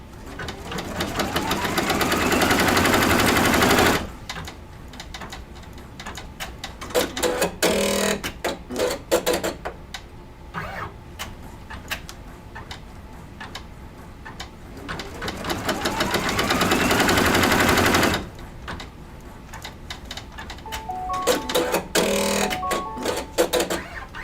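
A machine stitches out detail stitches on an Easter craft, running in close, loud sustained bursts at the start and again midway, with quieter, rhythmic stitching and pauses in between.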